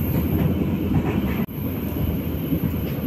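Steady rolling rumble inside an Indonesian business-class passenger train (the Logawa) running on rails, a continuous loud drone with a brief dip midway and no talking.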